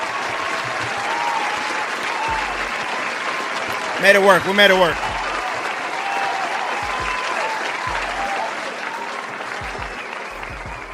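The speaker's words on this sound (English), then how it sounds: "let's get a round of applause" Applause on a basketball pre-game show, a steady wash of clapping and crowd noise running throughout, with someone talking over it briefly partway through.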